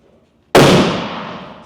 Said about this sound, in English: somebody's shooting a cannon over there.